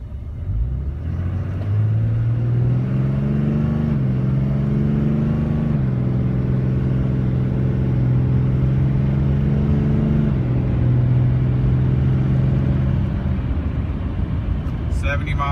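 A Dodge Ram 3500 dually truck rolls along a narrow, bumpy country road, its engine a steady low drone that rises and falls slightly in pitch, with someone talking over it.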